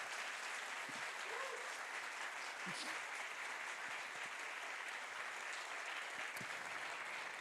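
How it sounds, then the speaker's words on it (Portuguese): An audience at a literary talk with writers claps continuously, a soft, even wash of applause heard from a distance throughout. "Por favor, uma salva de palmas."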